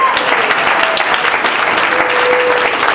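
Audience at Caroline's Comedy Club applauding a comic, dense loud clapping from a packed room that continues steadily throughout, close and full.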